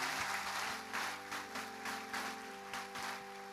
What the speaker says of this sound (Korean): 우리 큰 박수로 환영의 박수 하겠습니다